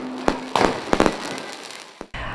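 Fireworks and firecrackers explode on a street for New Year's Eve in the Jiu Valley, a few loud, close cracks and bursts over a crackling, noisy background.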